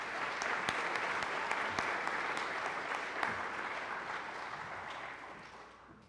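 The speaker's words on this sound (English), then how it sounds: "Please join me in one more round of applause for our Vantage Gold partners." Audience at an awards celebration applauding, a dense sustained wash of clapping from a large crowd, steady and fairly loud before gradually tapering off toward the end.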